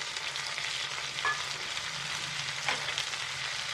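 Chopped onion and tomato fry in a pan for an eggplant masala, giving a soft continuous sizzle with a couple of brief stirring scrapes and no talking.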